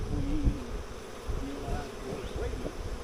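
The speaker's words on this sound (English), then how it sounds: "Not as many confused bees." Honeybees buzzing steadily around hives restored after heavy rain floated them away, a continuous outdoor drone with individual bees passing close by in pitch-wavering swoops over soft wind.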